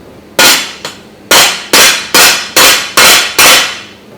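A hammer strikes a steel frying pan on an anvil during forging, seven loud, ringing blows at a steady, near rhythm with one lighter tap between the first two, and no talking.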